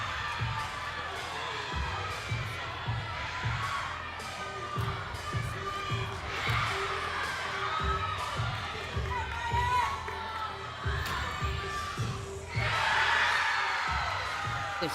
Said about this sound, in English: You can see the crowd loves it in the background, chanting for Lindenwood.